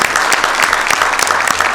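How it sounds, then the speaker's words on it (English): A council chamber audience applauds with dense, continuous clapping, loud and close. "Give him another round of applause."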